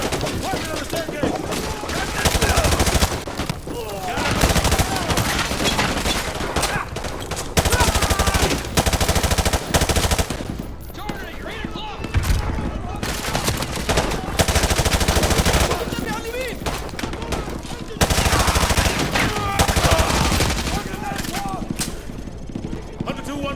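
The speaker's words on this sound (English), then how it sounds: "We are taking heavy fire from the school." Heavy automatic gunfire in a Call of Duty Modern Warfare 2 Remastered firefight around a school, continuous rattling bursts with brief lulls, under shouted radio chatter and voices throughout.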